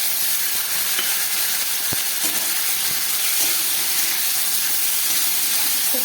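Eggplant and potato pieces with salt and turmeric fry in oil with a steady, loud, hissing sizzle throughout, broken by occasional soft knocks of stirring.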